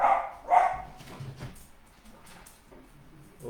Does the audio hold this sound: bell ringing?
no